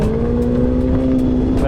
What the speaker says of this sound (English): Fast jet ski.